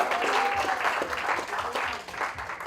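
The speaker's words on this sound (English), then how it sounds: "Let's have a round of applause." A college festival crowd applauds, a short burst of dense, lively clapping with cheers mixed in, fairly close and full for under three seconds.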